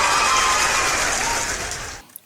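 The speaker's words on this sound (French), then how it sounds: "attends, il t'applaudit" Steady applause from a small group, fairly loud, then fading out quickly into near silence.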